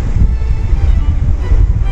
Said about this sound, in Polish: Dobrze, że jest pod wiatr